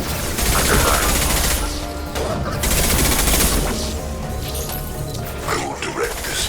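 Sustained rapid gunfire from a Mass Effect 2 battle, dense loud bursts of automatic shots with crashes and impacts, overlapping shouted combat voices throughout.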